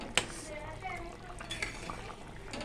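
Cooked vegetable curry in a pan, being stirred with a utensil: soft scraping and occasional metallic clinks against the pan over a faint background, with a sharper tap near the start.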